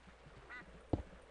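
A single short duck quack from the game YogsBox sounds once, close and fairly clear, over a low background hum.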